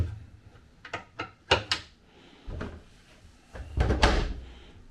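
Several locking drawers on a 50-foot yacht slide and knock shut one after another, sharp wooden clunks and scrapes up close, with a louder thud near the end.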